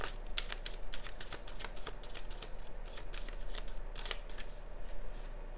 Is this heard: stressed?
no